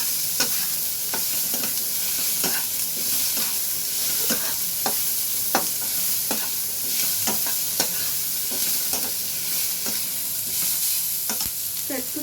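Onions frying in mustard oil while being stirred in a pan, a steady bright sizzle broken by repeated scraping strokes of the spoon, close and continuous with no one talking.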